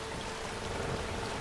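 Rain falling in the video game Skyrim, a steady even hiss of drops on surfaces, constant and moderately loud, with no other sounds standing out.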